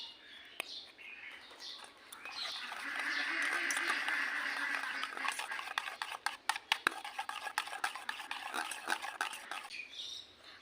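Flour being stirred into raw mango pancake batter in a bowl, a soft swishing and irregular clicking of the spoon close by, with birds chirping in the background and a person talking.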